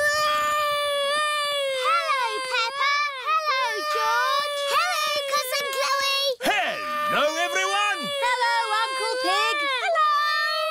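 A cartoon baby rabbit from Peppa Pig wails loudly and continuously, with rising and falling cries and a brief catch of breath midway, close up and alone.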